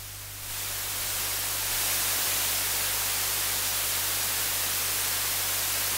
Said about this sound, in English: Then let's hear the white noise output.